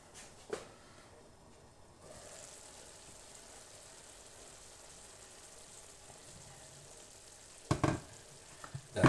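Spaghetti with vegetables stews in a pan with a little water, giving a quiet, steady low hiss and bubbling, broken by a couple of brief clinks.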